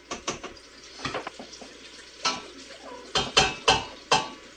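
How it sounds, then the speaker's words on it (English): A utensil scrapes and clinks against a pot while stirring melted fat and flour into a roux, a series of irregular close, sharp knocks and scrapes with quiet gaps between them and no talking. "Stir this stuff again because I don't want a big clump of it."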